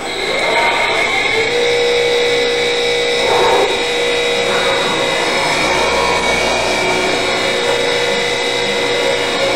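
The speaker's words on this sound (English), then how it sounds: "Now we're ready to do some grinding." A CNC tool cutter grinder sharpens a shaper cutter, giving a steady loud whine with a continuous hum, a few swells in the grinding tone along the way, and no voices.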